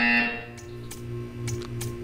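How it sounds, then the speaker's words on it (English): A short electronic buzzer tone sounds at the start in the video game Portal 2, a steady harmonic drone, followed by a few soft clicks and a low hum. "When you hear the buzzer, stare at the art."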